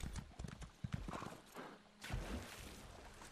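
Horse in The Elder Scrolls Online, with a rapid run of hoof clip-clops followed by a short whinny and more hoofbeats, close and clear over a brief span.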